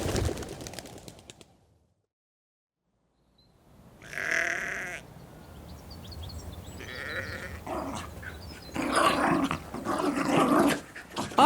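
Over-enthusiastic dogs at a hotel, bursts of loud yapping and barking in separate clusters after a silent gap, close by and increasingly frantic toward the end.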